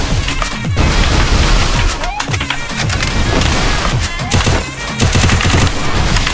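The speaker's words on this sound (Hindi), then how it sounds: "गन मारना पड़ेगा इसे गन मारो" Rapid gunfire and explosive booms from the mobile battle royale game Garena Free Fire Max, with dense bursts of shots and impacts running nearly continuously, loud and close throughout.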